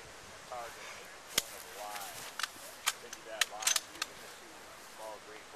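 Sharp rifle shots at an outdoor precision sniper match, several separate cracks spread over a few seconds, moderately loud against quiet background with faint voices.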